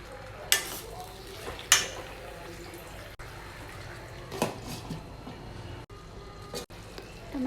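Tomato pickle stirred in a pan as it cooks, a soft scraping churn under a faint sizzle, with a few sharp spoon clacks against the pan.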